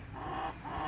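Hens cluck in short, low, throaty bursts at moderate distance in a farmyard setting, two soft calls with no talking.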